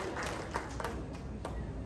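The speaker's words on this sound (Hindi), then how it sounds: "जोरदार ताली होनी चाहिए" Loud applause from an audience at an entrepreneurship talk show, a dense wash of clapping that carries on evenly throughout with a few sharper individual claps standing out.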